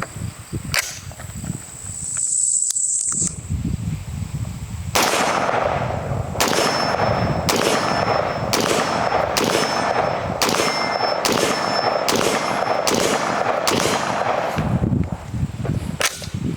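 Series of sharp PSA JAKL rifle shots at an outdoor range from about 30 to 40 yards back, one early crack followed by a rapid, evenly spaced string of about a dozen loud reports, each with a short ringing tail.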